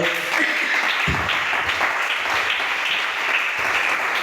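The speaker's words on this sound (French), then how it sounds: "Acclamez pour le Seigneur" A church congregation applauds for the Lord with dense, sustained clapping throughout, loud and close, with a few murmured voices mixed in.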